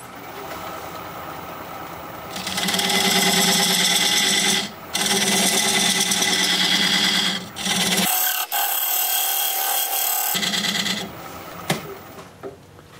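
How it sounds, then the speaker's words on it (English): Wood lathe cutting a tenon with a diamond point tool, a loud continuous rasping scrape in long bursts with brief pauses and a quieter spinning hum between cuts, no talk. "for that, I'm going to use this diamond point tool"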